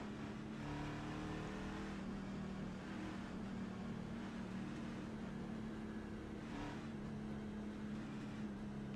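Race car engines drone in the iRacing sim racing game, a steady dense roar of several stock cars circling a track, constant and muffled with a faint rise and fall, no voices.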